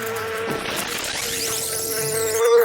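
Honeybees buzz loudly around winter hive colonies before fondant patties are added, a close, sustained insect drone with individual bees sweeping past and rising in pitch near the end.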